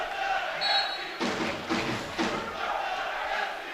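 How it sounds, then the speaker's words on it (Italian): Football supporters in the stands at a Valdagno versus Bassano match roar in a few loud surging bursts, with a commentator talking over the crowd noise. "diciamo tifoserie che incitano a gran voce i propri beniamini"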